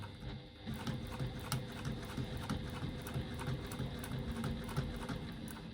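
Sewing machine quilting stitched lines through faux leather, a steady fast mechanical clatter running continuously and fairly quiet throughout.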